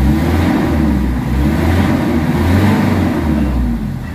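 A Mitsubishi Adventure engine with low-power, weak-pulling trouble is held at about 3000 RPM. It gives a close, loud, steady mid-pitched drone with slight fluctuation and eases off at the end.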